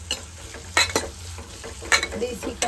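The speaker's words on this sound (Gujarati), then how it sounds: "તો આપણે એમાં મીઠું હવે મિક્સ કરી લઈએ" Sliced kankoda gourd being stirred with salt in a pan, a few scraping strokes of a utensil against the metal over a faint sizzle, close and fairly quiet.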